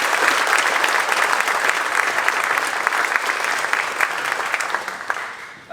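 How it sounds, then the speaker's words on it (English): Sustained applause from an audience at a 35th anniversary event for a mental health nonprofit in Baltimore, steady and dense clapping throughout with no speech, fading slightly near the end. "Let's have a round of applause."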